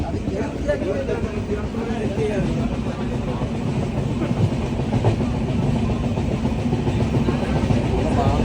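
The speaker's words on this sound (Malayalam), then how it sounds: "ഡൽഹി മുതൽ കേരള വരെയുള്ള കേരള എക്സ്പ്രസ്" Kerala Express train running on the rails from Delhi to Kerala, a loud, continuous rumble and rattle heard close from onboard, with people talking over it.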